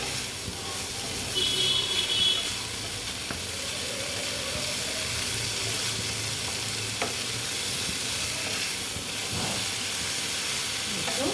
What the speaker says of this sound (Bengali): মোটামুটি আমার এটা কষানো হয়ে গেছে এবার আমি এখানে জল দিয়ে দিচ্ছি